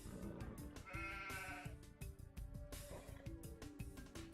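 Sheep bleating in Age of Empires, several wavering calls in quick succession over busy game sounds with clicks and small impacts, moderately loud, no talk.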